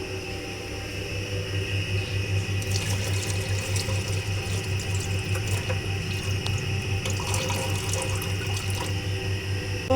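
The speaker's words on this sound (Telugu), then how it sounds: "ఇలాగా ఒక రెండు సార్లు కందిపప్పుని బాగా కడిగేశాను" Toor dal lentils are washed under a kitchen tap, with steady running water splashing into a sink for the whole stretch, close and fairly loud, and no voices.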